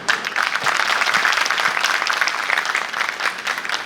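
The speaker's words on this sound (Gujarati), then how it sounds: "ઉસ્તાદો માટે તાળી વગાડો." Audience clapping steadily for the ustad dholak players at a community elders' honoring ceremony in Anjar, a dense, even burst of many hands sustained throughout before easing slightly at the end.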